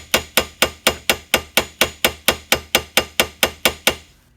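A hammer strikes a steering part on a 1949-53 Ford dropped upright about sixteen times in a steady, even rhythm, each blow sharp and ringing, close and loud with no talking.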